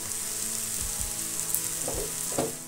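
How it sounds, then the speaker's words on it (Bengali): Boiled peas and spices sautéing in a pan for ghugni, a steady close sizzle with a few soft scraping stirs of a spoon toward the end, no voices. "মটরটা আমি ঢেলে দিয়ে মশলা আর মটর একসঙ্গে ভালো করে কষিয়ে নিচ্ছি।"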